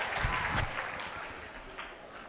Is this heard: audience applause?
yes